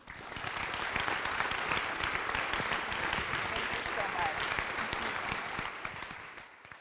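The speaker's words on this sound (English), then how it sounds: "Let's give her a round of applause." Dense, sustained applause from a forum audience greets a congresswoman, a thick, even roar of many hands clapping that holds for several seconds before tapering off at the end.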